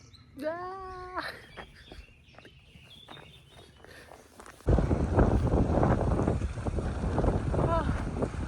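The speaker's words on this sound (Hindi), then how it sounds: "बहुत तेज़ हवा है" Strong wind buffets the microphone in a loud, continuous roar while climbing England's highest peak, starting abruptly partway through, after quieter outdoor sounds with a few chirps.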